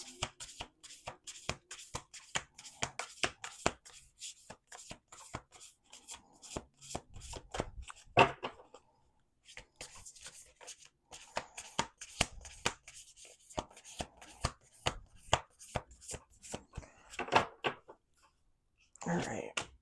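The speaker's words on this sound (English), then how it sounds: "we're going to do 2 more shuffles" A deck of oracle cards being shuffled by hand on a table, with repeated quick riffling and snapping bursts in close, crisp runs separated by short pauses, while a voice talks intermittently.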